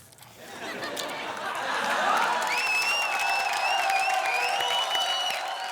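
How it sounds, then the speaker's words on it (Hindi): Audience applause at a comedy show rising into sustained clapping and crowd chatter with some laughter, fairly loud and continuous, with a whistle-like tone running over it. "यार बड़ी तालियां बज रही हैं"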